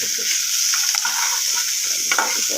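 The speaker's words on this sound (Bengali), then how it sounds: "এবার নেড়ে নিই, কালারটার জন্য হলুদটা একটু দিলাম, হলুদ কালারের জন্য।" Turmeric being stirred into a frying pan while making Bengali alu chokha, a steady close sizzle with scraping spatula strokes across the pan, no voices.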